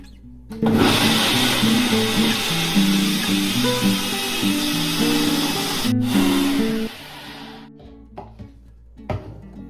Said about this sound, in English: And now it's time to get blending.